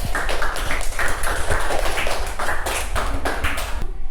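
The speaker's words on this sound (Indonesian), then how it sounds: "beri aplaus untuk kelompok 2" A classroom of students claps for a group after its presentation, a loud, dense burst of many hands close by, continuous and even for a few seconds before cutting off abruptly.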